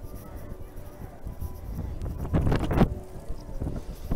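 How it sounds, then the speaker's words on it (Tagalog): Strong cold wind gusts over the microphone at an outdoor flower park in Ashikaga, Japan, a rough steady rumble swelling louder midway, with a voice faintly underneath. "Grabe, ang lamig. Ang lakas pa ng hangin."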